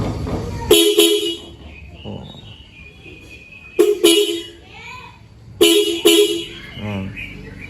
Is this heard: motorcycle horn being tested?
yes